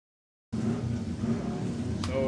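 Racing motorcycles at the Cookstown 100 road races in Northern Ireland, a steady engine drone at a distance that starts abruptly and holds level, with a brief higher whine near the end.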